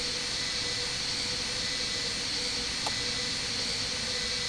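An airliner landing on a runway in the Roblox game Flightline3D, heard as a steady, broad whooshing jet roar with a faint tonal whine and one brief sharp click near the end.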